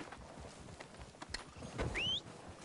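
Horses clip-clop closer in Red Dead Redemption II, a steady patter of hooves over a noisy outdoor backdrop, with a brief rising whinny-like squeal near the end and no one talking.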